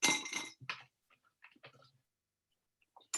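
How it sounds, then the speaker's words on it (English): A Strega and whiskey cocktail stirred over ice with a bar spoon, heard as a few bright clinks and rattles of ice against glass, a burst at the start, then scattered lighter taps and near-silent gaps. "So literally, so Strega, whiskey, and then just stirring that down with a little bit of ice."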